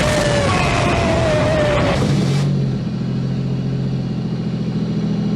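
A 1984 Pontiac Fiero race car engine runs loud and close, revving with a strong whine at first, then dropping to a steady, lower idle for the rest.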